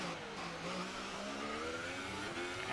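Simulated Haas Formula 1 race car engine in a racing video game, a steady mid-pitched drone with rising and falling harmonics as the car rolls into the pit lane toward the garage, loud and continuous with no talking.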